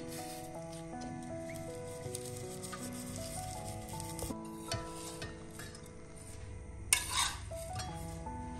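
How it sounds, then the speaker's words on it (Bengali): Lachha semai fries in ghee in a pan, a quiet patter of sizzling under soft stirring and the odd clink of a utensil against the pan, close by and without speech. "এই লাচ্ছা সেমাইটাকে ঘিয়ে ভাজলে অনেক মজা লাগে"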